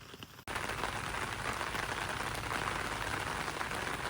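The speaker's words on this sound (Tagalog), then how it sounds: "Malakas yung ulan" Heavy rain suddenly roars in after a brief quiet moment, a dense, constant hiss that stays loud and steady throughout.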